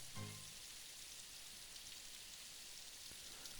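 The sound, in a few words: rain on pavement, from visual novel game Symphonic Rain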